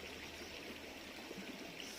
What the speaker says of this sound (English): Stream is there